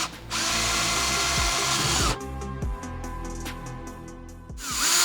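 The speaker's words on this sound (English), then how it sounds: "We'll start with a small drill bit. I'm working with a 9/64 drill bit to get started." A power drill with a 9/64 bit bores into plastic, a close, loud whining motor that bogs and restarts, with short bursts of drilling and changes in speed.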